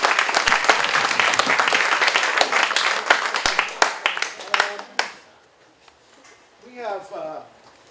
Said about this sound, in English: how about a big round of applause for Hal?